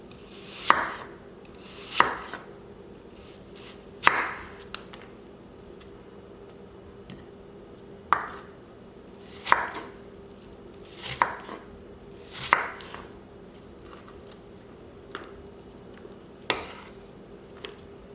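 A knife chops apple wedges into slices and matchsticks on a cutting board for an apple slaw, sharp close thuds landing in loose, irregular strokes with pauses between them.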